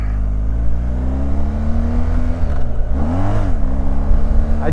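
A BMW R 1250 GS motorcycle engine runs loud and close, a steady low drone that rises and dips as the rider works the throttle, with a rev swell near the end.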